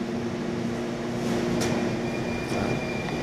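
A metro train rolling steadily inside a subway, with a continuous loud rumble and hum, steady tonal whine and faint brief squeaks, no talk.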